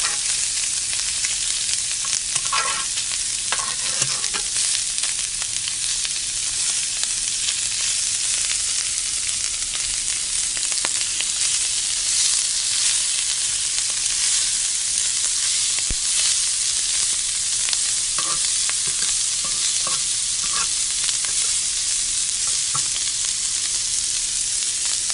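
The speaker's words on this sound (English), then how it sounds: "And now I'm going to mix the vegetables in." Fajita vegetables sizzle loudly and continuously in a pan, Haitian style, with occasional scraping stirs and clicks of a utensil breaking through the dense, unbroken hiss; no one speaks.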